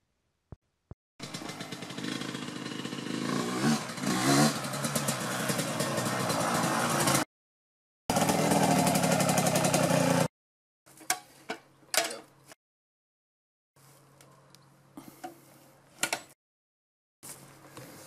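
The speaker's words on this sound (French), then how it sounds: "tu vas voir des motos tourner" A Yamaha YZ 125 motocross motorcycle engine, bored to 144cc Athena, running loud and close, revving and buzzing, cut into several bursts separated by sudden silences.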